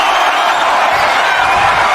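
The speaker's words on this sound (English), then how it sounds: "the crowd is loving it here tonight" Arena crowd cheering during a WWE 2K25 wrestling match, a steady dense roar of many voices that holds loud and unbroken throughout.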